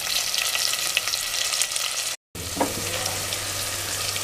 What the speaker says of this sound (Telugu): ఆయిల్ కాస్త వేడయ్యాక తరిగిన పచ్చిమిర్చి, ఉల్లిపాయలు వేసి కాస్త మగ్గనివ్వాలి